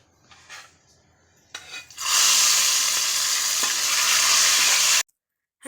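A tempering of garlic, cumin and chillies sizzles loudly as it is poured into fenugreek dal, a sudden burst of steady frying hiss after a few quiet stirring noises, cutting off abruptly.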